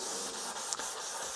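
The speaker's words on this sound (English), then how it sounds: "Just knock your pressure back and it will spray it lovely, because it's atomizing really, really nice on the 40-21." A paint spray gun atomizes reduced automotive paint at lowered pressure, giving a steady, close, even hiss with a few brief flutters, no voices.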